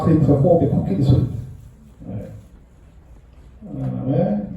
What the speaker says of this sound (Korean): 마마 크리퍼 호흡의 코끼리 소리.